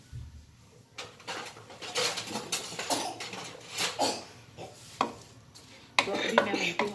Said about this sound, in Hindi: अभी मैंने चूल्हा ऑन किया और इसमें मैं डालने लगी हूँ प्याज।